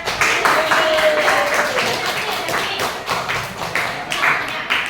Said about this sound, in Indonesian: Sudah tepuk tangan untuk kelompoknya.